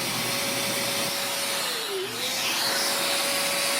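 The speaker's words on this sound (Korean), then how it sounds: "이게 뭐냐면 청소기입니다. 자, 한번 땡겨 보겠습니다." An industrial vacuum cleaner used in a clothing alteration workshop runs with a loud, steady whine, and its pitch briefly dips and recovers midway as if the hose is pulled.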